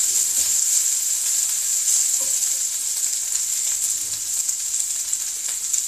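Curry chicken ingredients sauté in a pan with a steady, bright sizzle throughout, with faint occasional stirring underneath and no talking.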